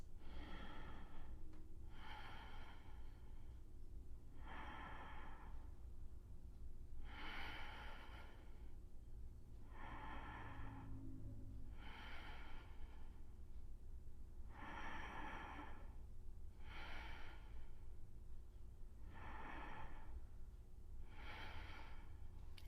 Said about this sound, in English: we're going to take 5 deep breaths.